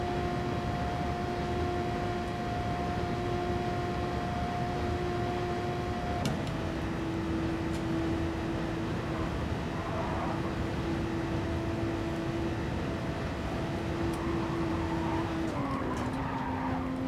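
A race car engine holds a steady high-speed drone through a gear in Gran Turismo Sport, with the pitch dropping at each shift and a brief tire scrub near the end, loud and continuous with no talk.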